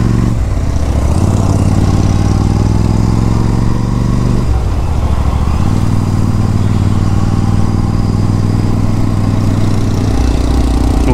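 A Royal Enfield Guerrilla 450 motorcycle engine runs steadily while riding, its low drone rising and falling with throttle changes, close and loud throughout, with no talking.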